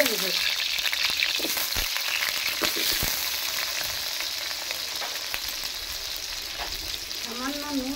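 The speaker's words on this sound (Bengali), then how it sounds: "আলুগুলো একটু ভেজে নেব।" Potatoes fry in hot oil in a wok (kadai), a loud steady sizzle with occasional stirring clatter and scrapes, no voices.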